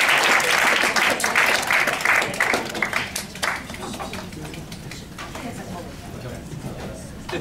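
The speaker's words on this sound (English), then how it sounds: "give the debaters another round of applause for them" A debate audience applauds loudly, then the clapping thins and fades to a softer patter.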